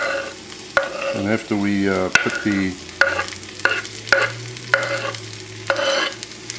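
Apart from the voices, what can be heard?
garlic and mushrooms frying and being stirred in pan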